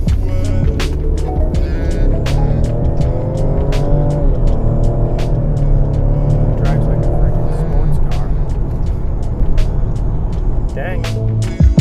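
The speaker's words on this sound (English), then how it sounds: "Let's get in the car and drive it up the road for a test drive and see how this thing does." A 2020 Ford Explorer ST on a test drive gives a steady, loud engine and road drone with rising tones as it accelerates, heard from inside the car, with occasional clicks and no clear talking.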